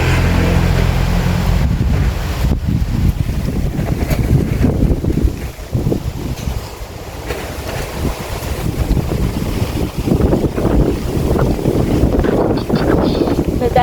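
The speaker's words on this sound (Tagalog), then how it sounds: "Lakas ng hangin, oh." Strong wind roars and buffets the microphone continuously, with water and boat noise underneath and a voice speaking briefly.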